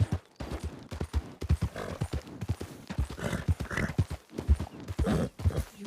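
Hooves clip-clop in a steady, close rhythm with a horse whinnying in a video game, the beats dense and repeated throughout with no talk.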